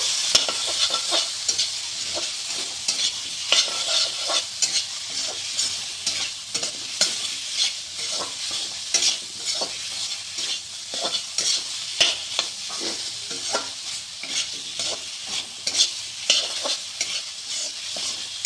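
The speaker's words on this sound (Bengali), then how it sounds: "এখন এটাকে একটু নেড়ে চেড়ে" Fried tomato, squash and potato are stirred in an oily pan, a close, continuous sizzle with frequent scraping strokes of the spoon and no talk.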